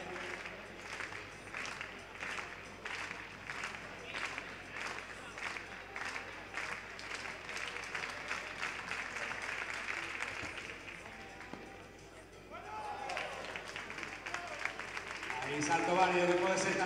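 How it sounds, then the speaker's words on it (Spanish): Spectators at an indoor athletics championship give rhythmic clapping in steady, evenly spaced beats for a jumping athlete, fading after about ten seconds while an announcer talks over it and a new murmur rises near the end. "Nos pide palmas o xoven atleta lugués, Alexander Barreiro."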